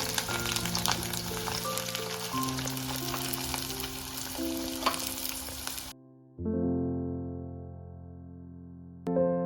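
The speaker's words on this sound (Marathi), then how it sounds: "आता आपण या तेलामध्ये फ्राय करून घेणार आहोत कारले पण" Bitter gourd (karela) pieces frying in hot oil give a steady, close sizzle for about six seconds, then a brief gap before it resumes under a droning background hum.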